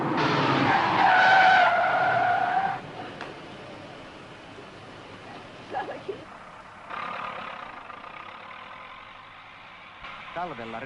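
A car brakes hard on winter snow and ice, its tires sliding in a loud skid that fades after a few seconds, leaving quieter engine and road noise with brief later scrapes.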